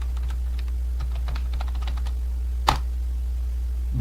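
Someone types Python code on a computer keyboard, with a quick flurry of light clicking keystrokes followed by a single louder, sharper press of the enter key, then quiet with a low steady hum underneath.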